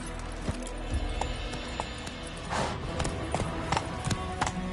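Roach the horse gallops in The Witcher 3 video game, a steady run of hoof clip-clops over a busy game soundscape with ambient music, close and clear, with no talking.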